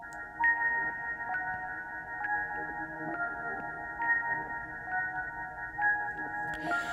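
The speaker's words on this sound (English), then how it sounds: "The next thing I want to show you is these chime things" A stock chime sample from Logic with a short reverb added rings out in repeated struck tones, each decaying into a sustained shimmering hum, clear and alone at moderate level, with a brief noisy swell at the very end.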